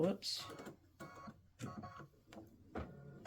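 An embroidery machine stitches an applique outline in short mechanical bursts that start and stop, with someone talking over the whirring.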